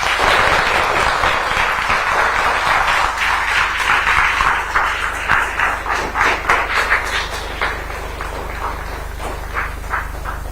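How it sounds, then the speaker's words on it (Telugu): An audience of parents and children at a school parents-teachers meeting claps loudly and densely. The applause thins after several seconds into scattered individual claps that fade toward the end. "కాబట్టి ఇది అమలు చేస్తామని గట్టిగా చప్పట్లు కొట్టి అందరూ చెప్పండి"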